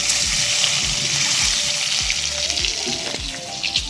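Green chillies fry in hot oil with a loud, dense, continuous sizzle and crackle, close up, while low rhythmic thumps and a faint hum run underneath throughout.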